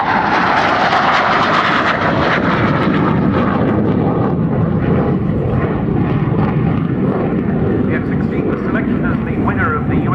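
A Belgian Air Force F-16 fighter jet flying a display at an air show roars loudly and continuously overhead, a dense engine rumble that swells and shifts, with a commentator talking over it.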